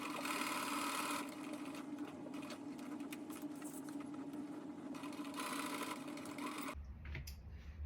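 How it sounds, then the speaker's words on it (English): A sewing machine stitching the curved part of a tote bag: a close, steady buzzing whir that runs almost without pause and cuts off abruptly near the end, with no talk. "I'll pin it in place and sew only the curvy part"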